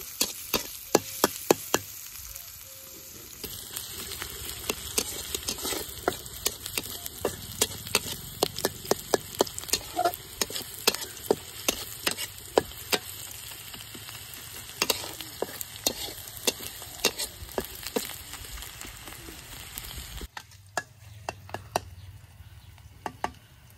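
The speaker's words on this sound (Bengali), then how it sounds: "পেঁয়াজ কুচি, কাঁচামরিচ, কাঁচামরিচ ভালোভাবে ভেজে নিই।" Chopped onion and green chillies frying in oil in a wok, a steady sizzle broken by frequent sharp scrapes and taps of a stirring spoon, loud and close until a quieter pause at the end.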